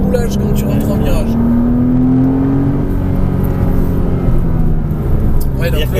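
A Porsche Cayman S engine drones steadily at close range on a racetrack, its pitch rising slightly as it accelerates, with a voice talking over it.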